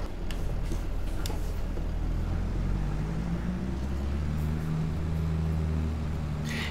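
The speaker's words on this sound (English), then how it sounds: "This is our speed tractor for the series." A tractor engine drones steadily while driving in Farming Simulator 22, a low continuous rumble with a shifting mechanical hum, moderately loud and with no talk.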